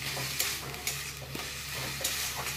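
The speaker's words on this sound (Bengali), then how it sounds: "তো এইটাই এবার নেড়ে নেড়ে এটাকে একদম, ভেতরে যে জলটা আছে এটা জলটাকে শুকনো করে নেবো।" Raw papaya and pumpkin mash stirred in a pan to cook off its water, giving a steady close scraping and soft sizzle with short louder scrapes of the spoon, and no talk.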